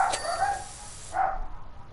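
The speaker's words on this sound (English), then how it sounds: "I'm sorry, don't mind the dogs." Dogs at home bark in two short bursts, a couple of sharp yips close by with a pause between, while a person's stream chatter is absent.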